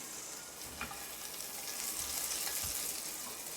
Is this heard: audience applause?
no